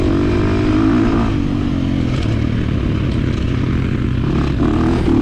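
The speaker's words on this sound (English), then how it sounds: "I love just letting that thing bark out here in the open grass. Just tuck, lean forward, full throttle, and it still brings the front end up." A 2023 KTM 350 XC-F dirt bike engine held at full throttle across open grass, a loud, continuous, rasping four-stroke roar close by, steady and barking with no pause or talk.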